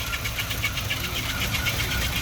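1963 Ford Thunderbird with a 390 V8 engine idling: a steady, even rumble with a faint rhythmic pulse, close up, with no voices over it.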